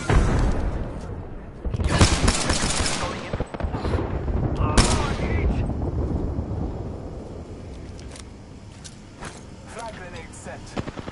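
Rapid automatic gunfire and explosive blasts erupt in an Apex Legends match, loud bursts clustered around the first few seconds and again midway, with a player talking over the firefight.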